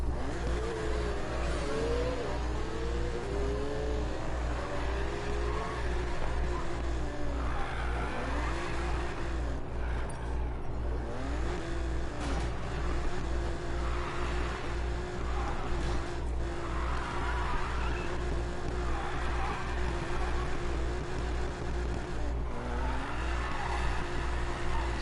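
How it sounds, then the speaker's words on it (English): Racing video game car engine droning steadily with a continuous rumble, rising revs and occasional short tire chirps from a spinning tire through the gears, loud and sustained for the whole stretch. "spin tire, second gear, does a little bit of a chirp sound"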